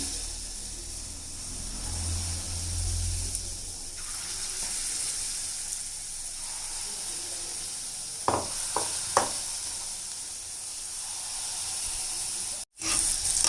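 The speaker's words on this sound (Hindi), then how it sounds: "ये तेल गरम हो चुका है, अब मैं बना रही हूँ मीठे पुए।" Sweet jaggery pua batter frying in hot oil, a steady soft hiss and sizzle running throughout with a few brief clinks near the end.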